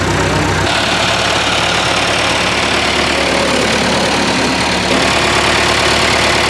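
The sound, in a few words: classic tractor diesel engine idling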